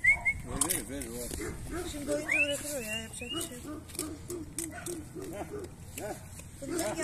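Dogs yip, whimper and bark intermittently during a night street-feeding outdoors, several animals at moderate distance, with people talking over much of it.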